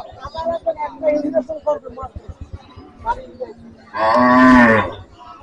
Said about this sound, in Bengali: দেখুন গরুটি কত বড়